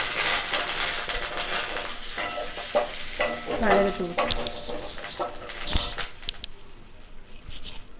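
Oil sizzles and crackles steadily in a pan while a spoon stirs and scrapes through fresh curry leaves for pepper-tomato rasam, with a few louder clinks.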